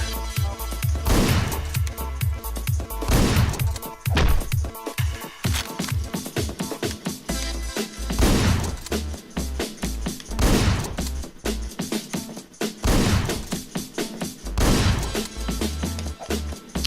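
Repeated heavy shotgun blasts in Hotline Miami ring out in quick, irregular bursts over a pounding synth soundtrack, each shot sharp and loud, with smashing impacts mixed in.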